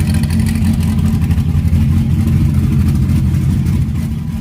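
A classic-look Jeep Cherokee with a 9-liter bored-out Gen 5 Viper V10 making 860 horsepower runs close by, a loud, deep, rumbling engine note holding steady and throbbing throughout, with no talking.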